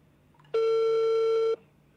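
A single loud, steady telephone busy tone lasting about a second, heard on a live call-in radio broadcast against a quiet background with no talk.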